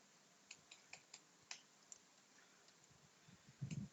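Code being typed on a computer keyboard: a handful of faint, scattered key clicks in an irregular rhythm, then a slightly louder thump at the end, in a quiet room.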